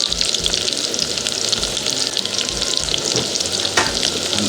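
Capsicum fries in a pan alongside chicken and onion, giving a loud, dense, steady sizzle close by with a brief stirring clatter near the end and no voices.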